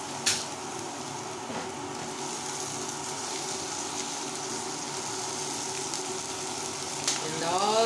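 Tomatoes sizzle and fry in a pot for Kenyan omena stew, a steady soft crackling hiss with a few clinks near and a louder burst at the end, while a person talks over it.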